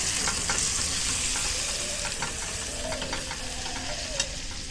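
A vegetable curry with tomato, asafoetida and potatoes fries in a pan while it is stirred, giving a steady loud sizzle broken by repeated scraping strokes of a spoon, close up and with no talking.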